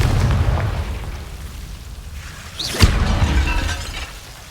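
A Confringo blasting curse in the Hogwarts Legacy video game goes off as one sharp, loud explosive crack with a shattering burst, over a steady rumbling game background, then fades into ambience.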